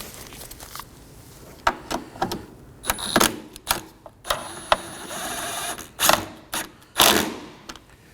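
Ratchet snugging down a 10mm bolt near the wiper motor on a Ford Transit Connect, a series of close, quick clicking bursts with short pauses between strokes.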